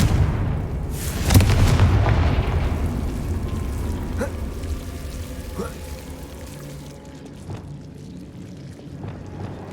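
A Confringo blasting spell goes off in Hogwarts Legacy as one loud, deep boom that rolls out into a long fading rumble, followed by a few fainter distant cracks.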